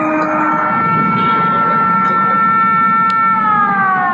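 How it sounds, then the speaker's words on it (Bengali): A loud, sustained air raid siren in Bahrain wails steadily with several layered tones, then slowly drops in pitch toward the end, over a low background rumble. "এই মুহূর্তে বাহরাইনে যুদ্ধের সাইরেন বাজছে"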